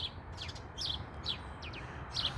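Several short, high sparrow chirps come in scattered bursts, moderately close, with a low ambient rumble running underneath.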